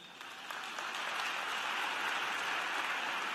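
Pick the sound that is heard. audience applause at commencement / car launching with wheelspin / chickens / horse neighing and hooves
audience applause at commencement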